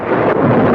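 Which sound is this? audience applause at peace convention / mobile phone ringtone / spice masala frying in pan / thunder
thunder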